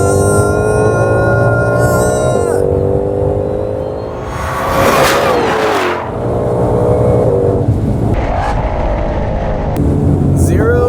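A Hennessey Venom 1000 and a Ford Mustang GT500 accelerate hard in a drag race, loud engines revving and climbing through gear changes with a rumbling roar, while people talk over the noise.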